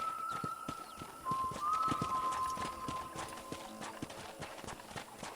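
Horse hooves clip-clop at a steady trot in Red Dead Redemption gameplay over a busy game soundscape with a sustained musical tone, moderately loud and rhythmic throughout.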